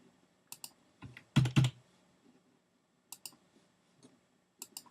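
Computer keyboard keys pressed in short bursts to delete line returns, a few quick clicks, then a louder cluster of taps, then more sparse clicks, close and alone.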